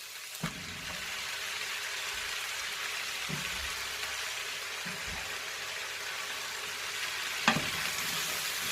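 Mushrooms and garlic granules fry in a pan under a low, steady sizzle, broken by a handful of sharp spatula clicks and soft stirring knocks spaced several seconds apart.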